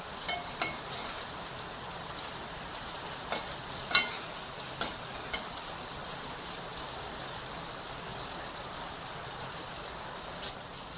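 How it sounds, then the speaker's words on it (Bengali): Fish and potato mixture for fish chops stir-frying in a pan, a steady soft sizzle with a few light scraping clicks of the spatula near the start and middle, no voices. "আলু দেওয়ার পরও 3-4 মিনিট ভালো করে কষতে হবে, মাছের যাতে আঁশটে গন্ধ একদম না থাকে।"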